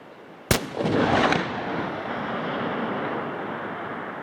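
One sharp, loud crack of a .375 long-range rifle firing a CEB 350 or GSC 414 bullet, followed by a long rolling echo that fades slowly across open country.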